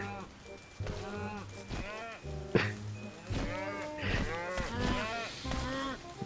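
Cows mooing in a video game, several drawn-out moos one after another, fairly close, with voices talking over and between them.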